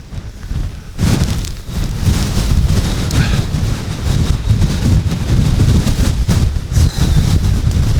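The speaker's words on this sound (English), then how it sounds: "you can see there's this little squeeze here again, like a wind tunnel" Strong wind gusts roar through a narrow squeeze between rocks in the Lake District mountains, a loud, close, continuous rush that buffets the microphone after a quieter first second.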